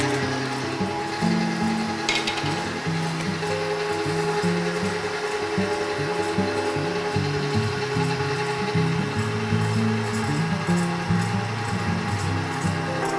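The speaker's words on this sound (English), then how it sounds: "I want to whisk it until it gets pretty stiff" Egg whites whisked for a pavlova meringue with an electric mixer, a steady continuous whirring hum that holds close and fairly loud throughout with no talk.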